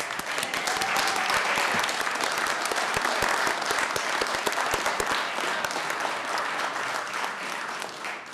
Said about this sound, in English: Now we can have a round of applause